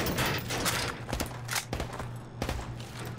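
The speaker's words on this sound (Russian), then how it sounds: "Теперь стреляй по мишеням от бедра." Rapid bursts of Call of Duty Modern Warfare Remastered gunfire, fired from the hip at targets, crack in quick succession over a low steady hum, with short pauses between volleys.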